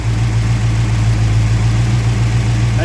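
A Mopar 340 V8 idles steadily at close range, a deep continuous rumble with an even low throb and no revving, sounding alone without talk.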